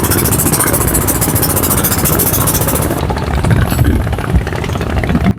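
A passenger trawler's engine drones steadily at a busy ghat on the Buriganga River near Zinzira in Dhaka, a loud continuous mechanical rumble with rattling that shifts in tone partway through and carries on without pause.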